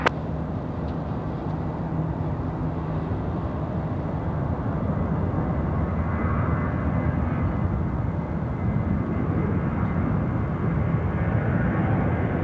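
An airliner lands on runway 28 Center at Chicago O'Hare, a loud, continuous low engine roar with a broad rumble that swells slightly toward the end, heard from nearby without voices.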